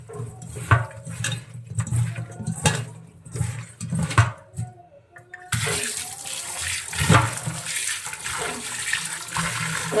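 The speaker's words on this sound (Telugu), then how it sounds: "సాల్ట్ వేసి శుభ్రంగా 5-6 సార్లు కడిగేసుకోవాలి శుభ్రంగా." Small Godavari fish being washed with salt in water: continuous splashing and sloshing close up, with handling clatter, turning louder and more vigorous partway through.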